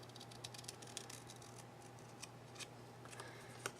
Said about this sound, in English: I'm just going to cut this little triangle out.